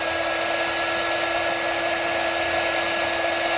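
A heat embossing tool runs with a steady, loud, whirring blower hiss and a constant whine while heating stamping foam. The sound holds unchanged throughout, with no speech.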